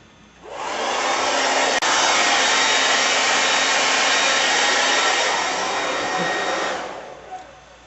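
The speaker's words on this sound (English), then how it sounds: "Okay, I'm gonna use a hair blower, so I ain't got all day to wait." A hair dryer switches on, blows at a loud steady roar on a decal for about six seconds, then powers down and goes quiet.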